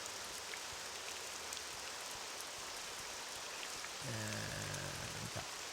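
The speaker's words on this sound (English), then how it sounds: "And it's rainy." Rain falls in the Morrowind game world, a steady hiss of drops spread evenly across the clip, joined near the end by a brief low tonal sound, with no voices.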